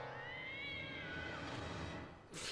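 A cat meows in the horror video game Ju-On: The Grudge, one long drawn-out wail with a falling pitch that fades out, then a brief noisy burst at the end.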